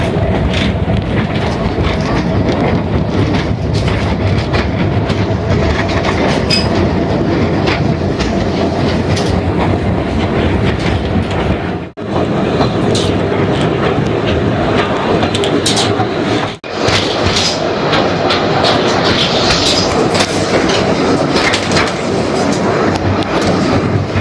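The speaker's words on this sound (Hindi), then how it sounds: "ट्रेन में बैठ गया और इंतज़ार हो रहा है इसके चलने का" Tourist train rolling through the Khewra salt mine in Jhelum, Pakistan, a loud continuous rumble with clattering wheels and rattling cars, briefly dipping twice before carrying on.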